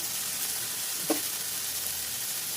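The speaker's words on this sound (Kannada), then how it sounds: "ಒಣಮೆಣಸಿನ್ಕಾಯಿ ಇದು ಹಾಕಿ ಒಂದು ಐದು ನಿಮಿಷ ಈ ಥರ ಫ್ರೈ ಮಾಡ್ಕೊಳ್ಳೋಣ" Spices frying in a pan: coriander, turmeric powder, ginger, garlic, coconut and dried chillies. A steady, close, even sizzle fills the whole moment, with one small clink partway through.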